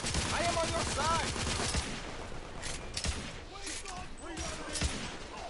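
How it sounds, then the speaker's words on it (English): Rapid gunfire in the video game The Order 1886, a dense volley of sharp shots and crackling bursts throughout, mixed with game voices talking. "What are you shooting at us?"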